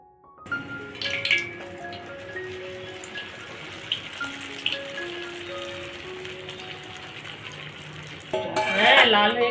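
Luchi fries in hot oil in a pan, a steady close bubbling sizzle running throughout, with a few clinks of utensils and a louder burst of spattering near the end.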